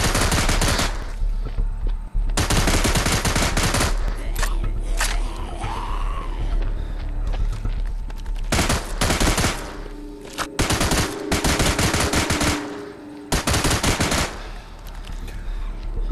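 Loud automatic gunfire and repeated gunshots fill a zombie shooter game, Into the Dead 2, coming in long sustained bursts with brief pauses between them.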